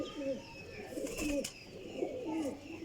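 A prized young pigeon coos in repeated low rolling phrases, close by, with other birds and faint background noise around it and no talk during the calls.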